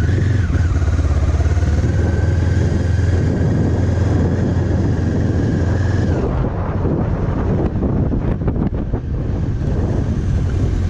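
A motorcycle engine runs continuously under heavy wind buffeting on the microphone, steady and loud throughout.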